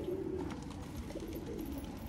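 Pigeons coo close by in a loose, low rolling murmur that runs steadily and fairly quietly, with no voices.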